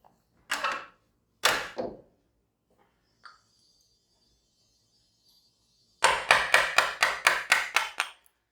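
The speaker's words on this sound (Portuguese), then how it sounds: "Eu posso entrar com um formão aqui." A wood chisel is driven into a marked arc on a wooden workpiece with sharp mallet taps: two single strikes, a faint tick, then a quick run of about eight evenly spaced blows, close and loud with no talk.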